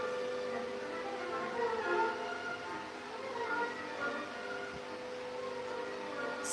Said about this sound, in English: I'm really sorry, and I apologize for the fan.